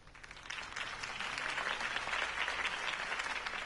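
A crowd bursts into sustained applause after a campaign speech in the Telltale Batman game, a dense wash of clapping that swells and holds, heard at a moderate distance.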